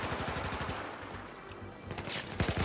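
ACE 23 assault rifle fire rattles in Battlefield 4 during a competitive match, rapid automatic bursts with a steady rhythm, fairly quiet and distant, with a sharper burst near the end.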